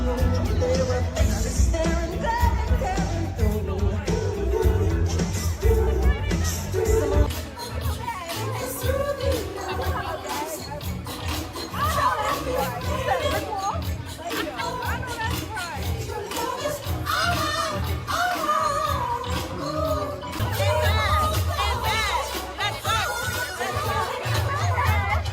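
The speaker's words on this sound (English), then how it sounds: "this is where the crowd went wild" A wild crowd at a Michael Jackson biopic screening, loud, continuous chatter and cheering throughout, dense overlapping voices with bursts of shouting.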